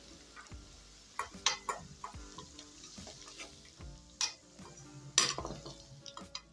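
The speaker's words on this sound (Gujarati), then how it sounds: "આ રીતે હલાવતા રહેશું એટલે એક સરખા સરસ તળાઈ જાય એમ" Potatoes deep-frying in oil for a cauliflower-potato curry keep up a crisp sizzle, broken by irregular clacks and scrapes as a spoon stirs them against the pan.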